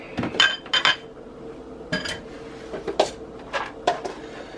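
A grits, bacon and sausage omelet is turned out of a cast iron skillet onto a pan, giving a close run of sharp metallic clinks and knocks in irregular bursts, with no talking.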